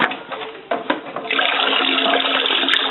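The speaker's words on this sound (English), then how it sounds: "we end up adding water up to this rim, just below the rim, which makes 6 gallons for this sort of standard beer and wine pail" Water gushes steadily into a plastic beer and wine-making pail being filled to six gallons, a close continuous rushing pour that grows fuller, with no talk.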